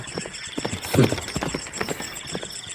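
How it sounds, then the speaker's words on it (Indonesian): Horse hooves clip-clopping at a quick, uneven pace, a running horse heard moderately close over a hissing background in a Javanese martial-arts radio drama. "Adakah kuda yang berlari itu adalah kuda kawan Untara?"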